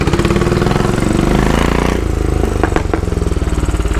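A Royal Enfield Bobber motorcycle engine and exhaust run loud and close in a steady, throbbing beat, with a brief shift in tone partway through.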